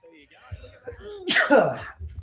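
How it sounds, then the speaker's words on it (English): A single sharp sneeze from a sports commentator in the middle of a cricket broadcast recap, a quick inhale followed by a loud burst, with brief talk around it. "Apologies for the sneeze."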